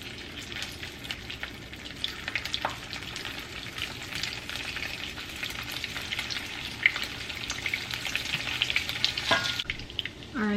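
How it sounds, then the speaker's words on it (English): Sausages fry in a pan with a steady close sizzle and crackle, plus occasional stirring clinks, with no voices over it. "And now we're gonna go ahead and fry our sausages."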